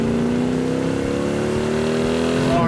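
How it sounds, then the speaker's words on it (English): A supercar engine with dual quad carburetors revs loudly and close by, a continuous snarling drone whose pitch climbs steadily throughout. "nothing like the torque of that thing when those dual quads open up."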